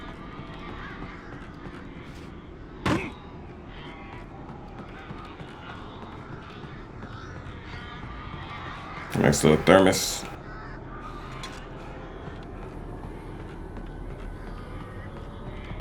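Crows in the Alan Wake Remastered game caw in a single call and later in a short cluster of harsh cries over a low ambient bed, while a person speaks briefly.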